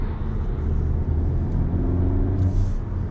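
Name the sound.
2022 Cupra Formentor VZ engine driving in sport mode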